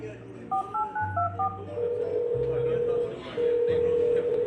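A telephone number is tapped out as a quick string of DTMF keypad tones, followed by a steady ringback tone, with a voice talking over it.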